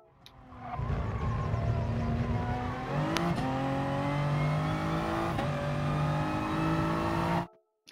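A Gr.3 race car in GT Sport roars at full throttle around Autodrome Lago Maggiore. The engine pitch climbs steadily with two quick upshifts, loud and continuous throughout, then cuts off at the end.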